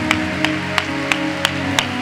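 A church congregation at a ministers' conference claps in a steady rhythm, six sharp claps spaced evenly over a sustained organ or music bed, with no talking.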